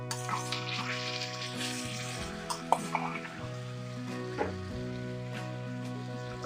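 Boiled potatoes and peas being stirred in a frying pan for samosa filling, a steady close sizzle with soft scraping strokes of the spoon running throughout.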